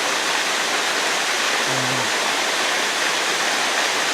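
Steady, loud broadband roar of a jungle waterfall pouring onto moist soil at its base, constant and close throughout with only a faint low murmur briefly under it.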